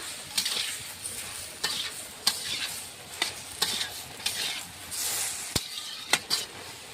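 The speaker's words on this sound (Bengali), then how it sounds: "ঢাকনাটা আবার খুললাম, খুলে একটু নেড়ে নেব।" Ridge gourd and potato curry being stirred in a pan, a spoon scraping in repeated short strokes over a steady soft sizzle, close and fairly quiet, with no talking.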